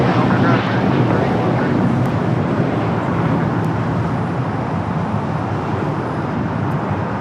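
Airliner taxiing across runway 25 right at LAX, a loud steady broadband jet engine roar that holds throughout without a break.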